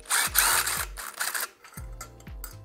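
Bolts being loosened on a Honda Integra engine by the thermostat and water pipe, two short bursts of a close power tool whirring with ratcheting clicks, separated by a brief pause, no talk.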